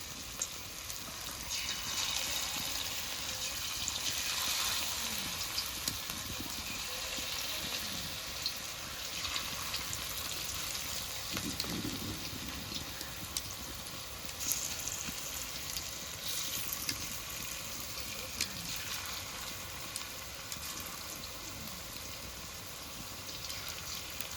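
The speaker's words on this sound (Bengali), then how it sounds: "তেলটা গরম হয়ে গেছে এবার পকোড়াগুলো ভেজে নেব" Cabbage pakoras deep frying in hot oil in a home kitchen, a steady dense crackling sizzle that persists throughout, close and moderately loud, with no talking.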